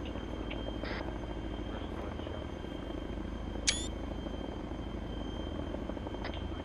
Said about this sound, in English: The choppers are gone